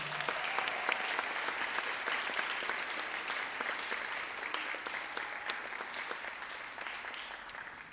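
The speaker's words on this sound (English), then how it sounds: "Let's give them another round of applause." An audience applauds graduating high school seniors at a college outreach program ceremony, a dense, even round of clapping that carries on steadily throughout with a few sharper individual claps standing out.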